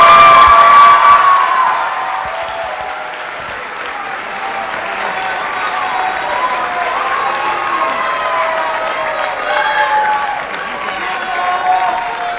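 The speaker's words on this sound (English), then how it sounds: "give them all one last round of applause as they're walking out" A school audience gives sustained applause at an elementary school holiday concert, a loud, dense wash of clapping with scattered cheers and children's shouts that stays steady throughout, with a few voices mixed in.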